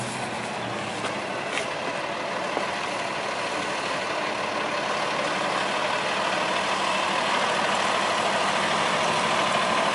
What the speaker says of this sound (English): waiting on a truck driver, as we often are. Sitting there idling.